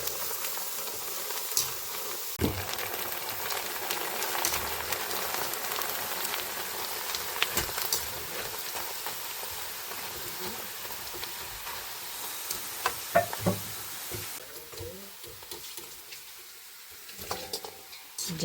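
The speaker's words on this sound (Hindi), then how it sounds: "तो यहाँ पे अलग तेल गरम है। तो ये तल रही हूँ मैं" Food for the next morning sizzles and crackles steadily in hot oil, a continuous broadband hiss with scattered sharper pops and occasional clicks, fairly close and without talk.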